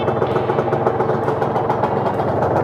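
A Yamaha TZR150 motorcycle engine idles up close, a steady, even putter with a rapid regular pulse and no voices.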